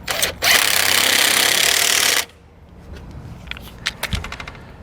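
A power tool drives the bolts of a heavy-duty tow bar, with a loud two-second whir, then quieter clicks and metallic taps of the socket and hardware close by.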